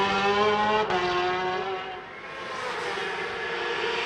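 Racing motorcycles in free practice at the Macau Grand Prix street circuit, a high engine whine sliding downward as a bike passes close, then fading into a fainter, broader roar of machines farther off.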